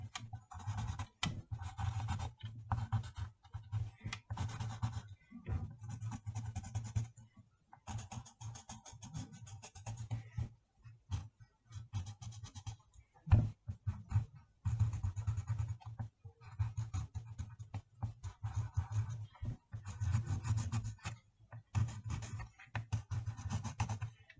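A pen scratches across paper in steady bursts of writing strokes, close and fairly quiet, with brief pauses between runs and no talking.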